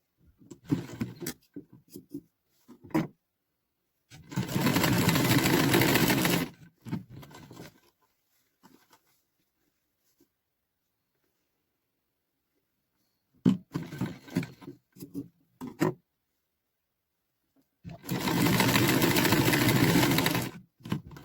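A sewing machine stitching a patchwork quilt, running in two loud steady motor bursts of about two seconds each, separated by quiet pauses, fabric handling and short starts, close by.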